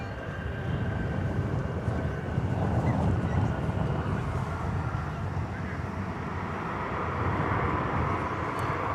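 A Cessna Citation Longitude business jet passing at DFW Airport, a steady broad roar of jet engine noise held at an even level throughout, with some wind noise.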